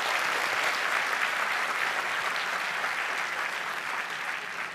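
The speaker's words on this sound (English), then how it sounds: "Can we have a big round of applause of this gentleman?" An audience at a 2013 telecom institute keynote session breaks into continuous applause, a full, even wash of many hands clapping, moderately loud and uninterrupted for the whole few seconds.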